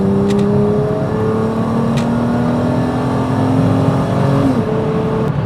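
A BMW E36 fitted with an 8HP automatic gearbox accelerates on a highway at around 90 km/h, the engine drone rising steadily in pitch with a gear drop, loud and continuous with wind and road noise throughout.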